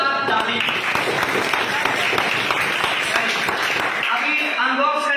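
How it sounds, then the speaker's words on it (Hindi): Applause for a young creator at a YouTube Silver Play Button unboxing, dense clapping with voices over it that stops abruptly near the end, leaving some talk. "तो अर्जुन शर्मा के लिए जोरदार ताली"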